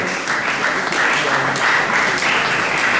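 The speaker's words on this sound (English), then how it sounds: "Please, clap for them, clap for them" Wedding guests applaud continuously, a dense, steady wash of clapping from a crowd that holds at an even level throughout.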